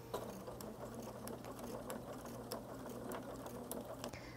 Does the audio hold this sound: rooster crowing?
no